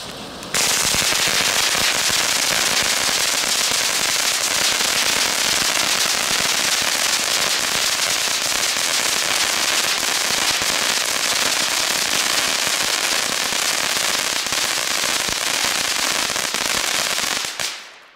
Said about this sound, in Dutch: We hebben nu dus wel de crackling shocks.